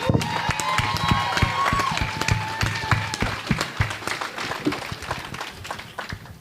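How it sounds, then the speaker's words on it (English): An audience applauds with scattered cheers, a dense wash of clapping throughout with a few sharper individual claps standing out, gradually thinning by the end. "A round of applause for Frankie Diamond."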